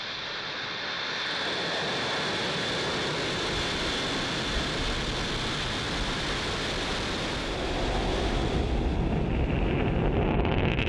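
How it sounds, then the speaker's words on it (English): Rocket engines roar at liftoff, a dense, continuous broadband rumble that holds loud and steady and swells slightly toward the end, with no voices over it. "Liftoff."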